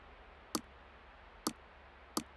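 Keyboard keys pressed one at a time while playing Car Mechanic Simulator 2026, giving three sharp, separate clicks spaced roughly a second apart over a quiet background.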